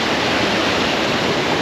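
A small waterfall on the Koosah and Sahalie Falls trail gives a steady, close, full-band rush of falling water, continuous and unbroken with no voices.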